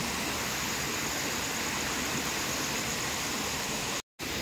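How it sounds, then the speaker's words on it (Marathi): Heavy monsoon rain at night in a Konkan village, heard as a dense, even roar of falling water and runoff that holds without a break before a sudden cut near the end. "भरपूर पाणी पडला."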